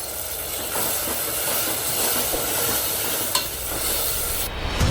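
Garlic ginger paste hitting browned onion in a hot pan, a continuous close hissing sizzle with stirring scrapes and a couple of sharper clicks.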